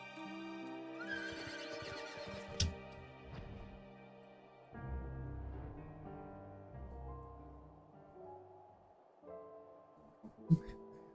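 A horse neighs and whinnies several times in the video game Final Fantasy XIV, with a few soft hoof clops in between, fairly quiet and without talk.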